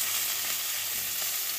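Rohu fish frying in a pan, a dense, steady hiss and crackle of hot oil, close and continuous, without voices.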